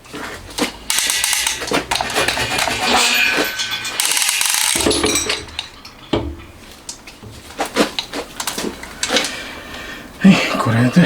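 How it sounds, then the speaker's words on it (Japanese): A screw is removed from the Z-axis assembly of a milling machine, giving a run of close metallic clicking and ratcheting with brief knocks and scrapes of metal parts, loud and continuous before thinning out into scattered taps. "あとはこのネジを取ればこれスポッと抜けますね。"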